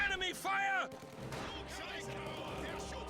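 A machine gun in a video game fires in bursts at a house, the rattle and booms sitting under a caster's commentary.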